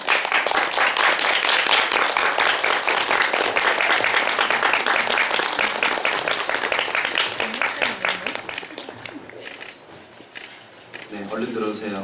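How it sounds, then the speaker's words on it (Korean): Loud, dense applause from a large theatre audience fills the space, gradually thinning out, with a voice speaking briefly in Korean at the end. "박수로 맞아주세요."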